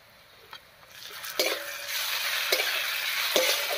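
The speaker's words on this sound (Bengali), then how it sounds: "আদা রসুন বাটা দিয়ে একটু নাড়িয়ে নিলাম" Ginger-garlic paste frying with onions in a pan while being stirred, a steady close sizzle with a few sharp utensil clinks against the pan.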